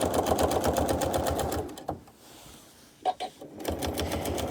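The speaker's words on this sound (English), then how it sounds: "I have my sewing machine set to make a little tiny knot" A sewing machine stitches a quilt in stitch-in-the-ditch quilting, its rapid rhythmic needle chatter running steadily, pausing briefly with a couple of clicks, then resuming at full speed nearby.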